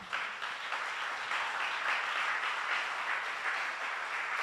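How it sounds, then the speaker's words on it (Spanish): A church congregation at a Spanish-language sermon bursts into sustained applause, a dense, even wash of many hands clapping throughout with no break. "Denle un aplauso al Señor."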